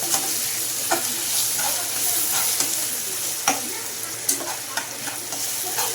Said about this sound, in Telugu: జింజర్ గార్లిక్ పేస్ట్ ఇలాగ ఆనియన్ ఆయిల్లో కొంచెం ఫ్రై అవ్వాలి బాగా మిక్స్ చేసేసుకోండి